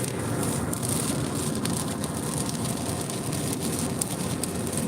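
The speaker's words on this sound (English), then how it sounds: "rainy, windy day" Steady rain and wind buffet a truck cab on a cold, wet day, a dense continuous hiss with scattered patter, loud and close throughout with no talking.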